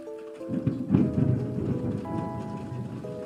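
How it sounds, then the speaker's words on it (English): Thunder rolls in a low, rumbling swell that peaks quickly and fades over a few seconds, with rain pattering steadily underneath and a faint tonal hum in the room. "Big Thunder!"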